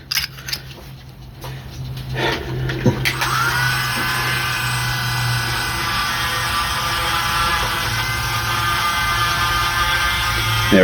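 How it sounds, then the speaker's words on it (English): A Dremel rotary tool cleans the contacts of a Gottlieb pinball stepper unit, spinning up after a few short clicks and handling noises into a steady, loud high whir that holds to the end. "Do you want to just Dremel the contacts? He'll Dremel those contacts."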